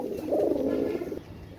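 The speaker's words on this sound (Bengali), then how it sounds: "ভিউয়ার্স কবুতর পেয়ারগুলো দেখেন, ইনশাল্লাহ ভালো লাগবে।" Pakistani fancy pigeons give a single soft, low cooing call close by, with quiet background murmur and no talking.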